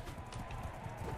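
Horse hooves galloping in the video game Mount & Blade II Bannerlord, a quick rhythmic clip-clop of several hoofbeats, fairly close and moderate in level, with no speech over it.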